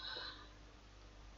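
A single computer mouse click, a faint sharp tick near the end of an otherwise quiet stretch.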